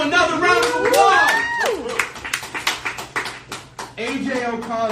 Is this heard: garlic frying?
no